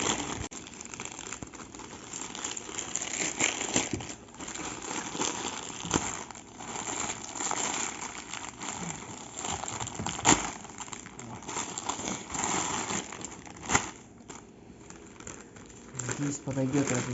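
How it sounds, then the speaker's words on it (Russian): AliExpress parcels being unpacked, plastic packaging crinkling and tearing in close, irregular bursts while someone talks throughout. "посылки с Алиэкспресса. Распаковка будет сейчас."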